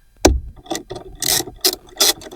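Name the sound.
10mm socket and ratchet loosening battery terminal nut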